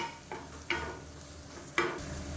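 Greens being stirred and sautéed in a pan, a low steady sizzle broken by three quick scraping strokes of the spoon, close and moderately loud.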